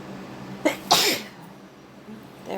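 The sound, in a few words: sneeze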